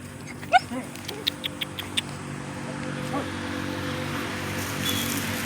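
A dog greets arriving visitors at a rural nipa hut, letting out a series of short, evenly spaced yips over a steady outdoor hum with a passing car. No one speaks.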